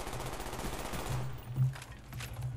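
Rapid automatic gunfire rattles in bursts during a PC match of Call of Duty Black Ops 1, fairly quiet and dense, with no speech.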